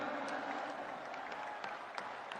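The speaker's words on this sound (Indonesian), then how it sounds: "Tepuk tangan sekali untuk Bapak Anies Baswedan" Steady applause from a crowd at an outdoor political party rally, a continuous wash of clapping with a few sharper claps standing out, fairly distant.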